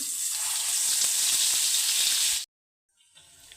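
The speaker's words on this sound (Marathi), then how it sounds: "तेल गरम झालं आपला आता मसाला टाकून घेऊ" Spice masala sizzles loudly in hot oil for a Khandeshi sev bhaji gravy, a steady bright hiss that cuts off abruptly, followed by a fainter, softer sizzle after a brief silence.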